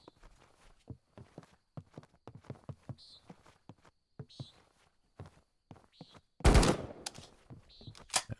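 Gunfire blasting at ghosts in the video game Kinki Spiritual Affairs Bureau, with a run of sharp, short shots spread across the moment and a louder burst near the end.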